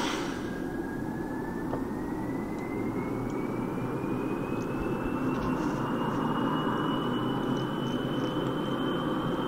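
Jet engines of a hypersonic jetliner in Kerbal Space Program, a steady loud roar with a rising whine that climbs slowly in pitch as the engines spool up, continuous throughout.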